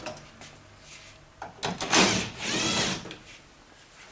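A power drill whirs in short bursts as it undoes screws on the back of an AEG Electrolux heat pump tumble dryer, with faint clicks and rattles between the runs.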